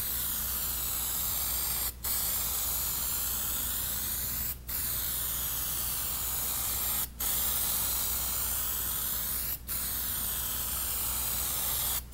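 Plasti Dip aerosol can fitted with a dip nozzle sprays in steady, loud hissing bursts, about five long passes separated by brief pauses.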